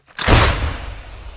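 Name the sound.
artillery gun firing a shot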